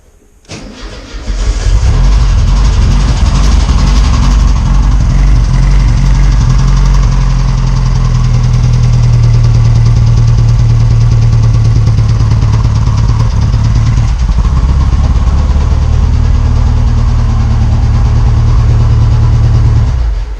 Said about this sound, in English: So he put a couple vibrant resonators on. It sounds really good now.